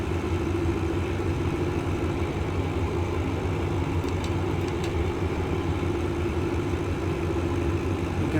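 Piper Twin Comanche right engine at run-up in X-Plane 11, a steady droning piston engine hum that holds constant throughout, loud and close, with no voices.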